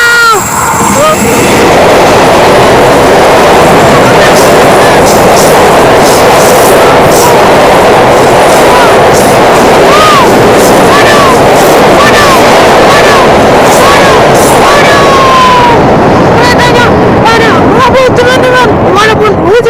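CC 03 locomotive racing past fast in the rain near a level crossing in Indonesia, a loud sustained roar of wheels and engine with tonal screeches, heavy rain and wind noise throughout, and someone talking over it.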